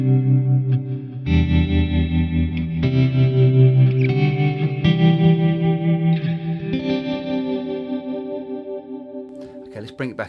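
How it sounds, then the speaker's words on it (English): Guitar chords ring through a Boss Katana amplifier set to a reverb with a chorus effect, producing a loud, shimmering, wavering sustain that washes over each strum and trails off near the end, with no talking. "that's giving us a reverb which has got some chorusing effect to it"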